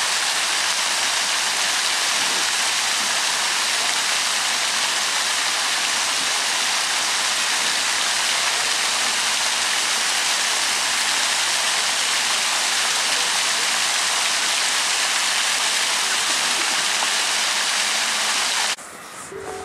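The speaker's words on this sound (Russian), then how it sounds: "Как прекрасен шум воды." Water rushes in a steady, loud, broadband roar, like a waterfall, at a fountain in Tolyatti with coins lying in it; the sound continues unbroken and drops slightly right at the end.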